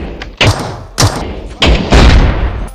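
AWM sniper rifle shots in PUBG Mobile: four sharp, loud reports spaced roughly half a second apart, each followed by a short booming tail, with a voice faintly present underneath.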